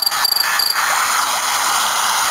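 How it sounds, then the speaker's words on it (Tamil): A steady, broad rush of falling water, loud and continuous, with no other sounds over it. "சவுண்டு கொடுத்துருக்காங்க வாட்டர் ஃபால்"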